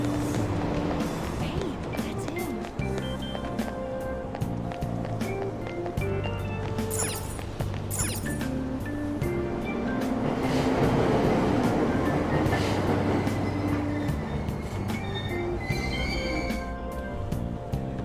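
A subway train pulls away in the Persona 5 Royal video game, its wheels squealing in high, shifting tones over a loud rolling clatter and rumble that builds midway, with background chatter throughout.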